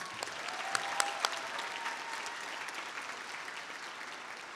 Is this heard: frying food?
no